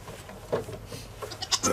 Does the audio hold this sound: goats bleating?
yes